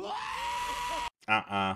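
Goats scream loudly and close by, a long harsh wailing cry followed after a brief gap by a shorter, strained bleating scream.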